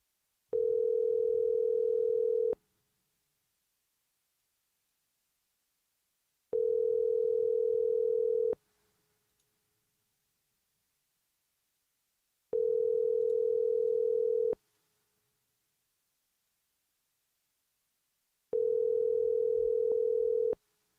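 Telephone dial tone repeating in four steady bursts of about two seconds each, separated by silences of roughly four seconds, clear and alone with no talk.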